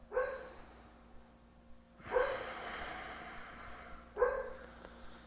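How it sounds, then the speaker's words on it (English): A dreaming dog barks in its sleep, letting out three soft, muffled woofs or snorts about two seconds apart, close by in an otherwise quiet room. "My dog is currently having a dream and barking in his sleep."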